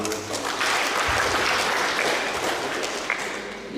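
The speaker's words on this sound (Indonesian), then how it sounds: "Kita tepuk tangan untuk kita semua" A government data presentation audience in Puncak Jaya breaks into sustained, even applause that fills the room at a steady level from start to finish.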